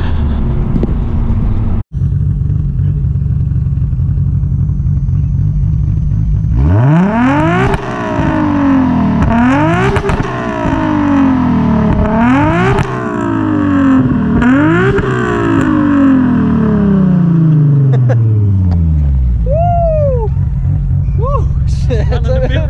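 A 500-horsepower R32 Nissan Skyline GT-R engine revs up through several gears, each rising pull cut by a shift, loud and close, then winds down and fades.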